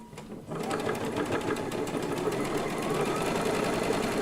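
A sewing machine stitches a quilt seam in a steady, fast run of needle strokes that starts after a brief pause and continues close and loud to the end.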